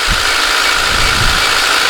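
A cold ZAZ 1102 Tavria petrol engine idles on choke with a steady low, continuous rumble and faint rattle, close by, with no talking.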